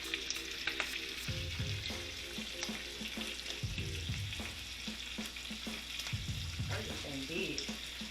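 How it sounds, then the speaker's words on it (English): Bacon frying in a skillet, a steady crackling sizzle running throughout, with a few louder pops and some low clattering and handling sounds, and no talking. "Got our bacon over there popping."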